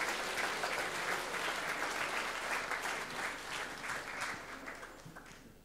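Audience applause at a school film and theatre competition awards ceremony, steady and sustained clapping from a hall crowd that fades slightly toward the end.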